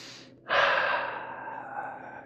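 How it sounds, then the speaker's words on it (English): A yoga student breathes in a Gomukhasana class: a short exhale, then a long, loud inhale through the nose or mouth that slowly tapers off, close and unaccompanied by speech. "just breathe."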